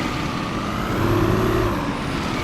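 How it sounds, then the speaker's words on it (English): A truck in the Truck Simulator driving game revs its engine, a loud, steady, close diesel drone that swells slightly in pitch midway, with no talking over it. "Let's get some revs."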